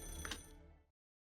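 A telephone rings in the video game Fate/Grand Order, a short electronic bell burst under a second long that cuts off abruptly, with no voices over it.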